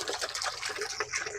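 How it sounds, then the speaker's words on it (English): One gallon of water poured into a container for homemade bug spray: a steady, close gushing splash that runs without a break, with no voices. "I'm just gonna pour the water in there"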